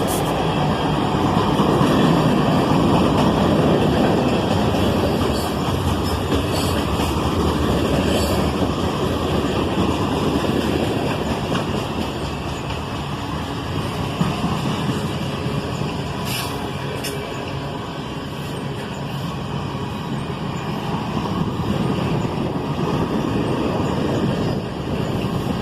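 A manifest freight train with auto racks slows to a stop on the main line at the south end of Carlisle on the Toledo sub, a long steady rumble of rolling cars with occasional squeals, heard outdoors with some wind noise.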